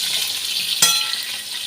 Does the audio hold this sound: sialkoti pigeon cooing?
no